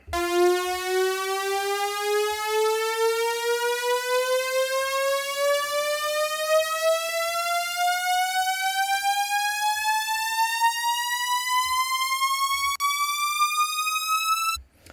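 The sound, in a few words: synth upriser with LFO modulating pitch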